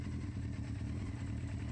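An original Honda Fireblade SC28 CBR900RR superbike engine runs steadily, a dense low rumble with mechanical clatter held at an even level throughout, without any clear revving.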